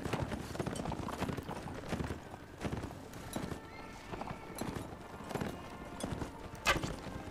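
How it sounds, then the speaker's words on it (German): Cavalry horses in the video game Mount & Blade charge across the field, hooves pounding in rapid overlapping clip-clops with occasional whinnies, rhythmic and close. "Also, Cavalry Charge."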